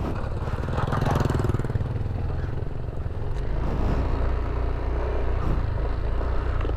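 A motorcycle rides along a broken, patchy road near the Mayon volcano viewpoint in Bicol. The engine drones loud and close without a break, with rough rumbling from the uneven surface.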